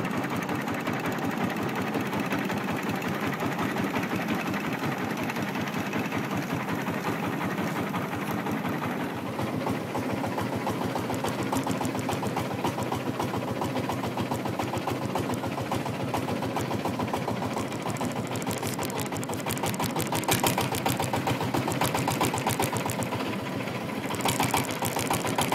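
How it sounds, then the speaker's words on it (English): A boat's loud, rattling Chinese tractor diesel engine runs continuously on Lake Inle, Myanmar, a dense mechanical clatter that holds steady and grows slightly harsher toward the end. "The incredible racket going on behind us is the engine for this boat, big Chinese tractor engine"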